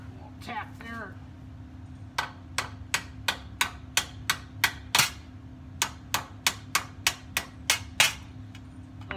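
Steady series of sharp metallic hammer taps, about a dozen evenly spaced strikes, on the steering area of a 1966 Chevelle during a disc brake conversion, close and fairly loud over a low steady hum, with brief voice at the start.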